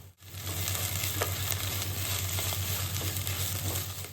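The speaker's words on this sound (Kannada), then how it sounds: "ಆಮೇಲೆ ಕೊತ್ತಂಬರಿ, ಸ್ವಲ್ಪ ಮಿಂಟ್ ಇದನ್ನೆಲ್ಲ ಹಾಕ್ಕೊಂಡು ಸ್ವಲ್ಪ ಸಾಟೆ ಮಾಡ್ಕೊಳ್ಳಿ" Coriander and mint sautéing in a pan for veg biryani after ginger garlic paste, a steady close sizzle with occasional stirring scrapes and a low hum underneath, no voices.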